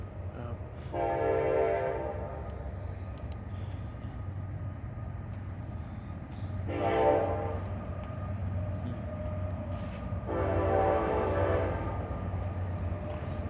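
Passing train sounds a horn three times, each long tonal blast well apart, over a steady low rumble of rolling wheels heard from a neighborhood, fairly distant and with no talking.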